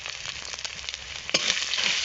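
Turmeric powder fries in oil with chilli powder and ginger-garlic paste: a steady sizzle broken by a stirring scrape, after which the hiss grows louder and brighter.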